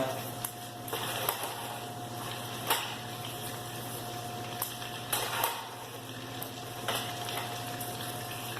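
A mixture of butter and sugar boiling in a pot, a quiet, steady sizzling bubble with faint pops and occasional light clinks of stirring.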